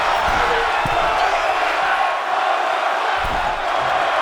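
Wrestling match crowd cheering and shouting in a steady loud roar, with a commentator talking over it.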